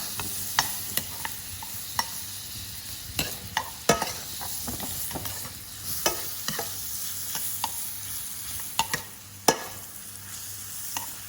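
Food fries in butter in a pan, a low continuous sizzle broken by frequent sharp pops and spatters, close-up and fairly quiet, with no talking.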